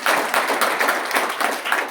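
A live audience at a motivational education talk claps in a dense, steady patter of many hands, fairly close and loud, with a few slight surges across the short burst.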